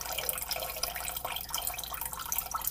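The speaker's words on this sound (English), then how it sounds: "I'm gonna go add some more water to this" Water poured from a tap into a cooking pot for a pork loin, a steady soft splashing trickle that runs the whole time with no talking.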